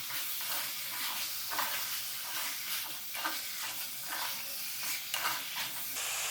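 Kerala-style varutharacha chicken curry is stirred in a hot pan, giving a steady close sizzle broken by repeated scraping strokes of the spoon, with no talking.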